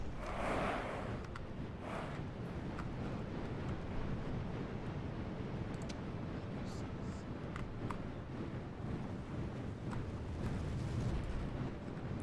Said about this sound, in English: We'll see if they're going to sit and take the barrage